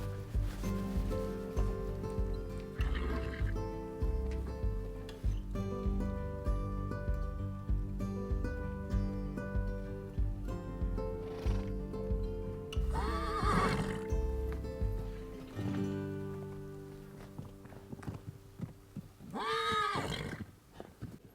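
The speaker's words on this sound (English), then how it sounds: "I'm just going to let you guys enjoy all these pretty horses running around for a little while" Herd of horses, including a mustang, running and neighing in a pen, with loud repeated whinnies rising over background music, and thudding hoofbeats toward the end.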